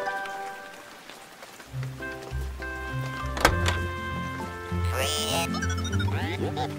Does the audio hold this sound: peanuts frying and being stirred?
no